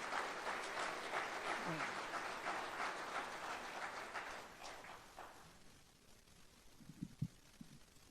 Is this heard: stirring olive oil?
no